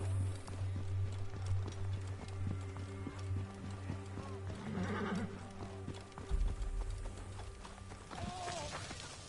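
Horse in Assassin's Creed Origins with steady clip-clop hoofbeats and a whinny midway, set over a low droning game ambience, with brief talk in the background.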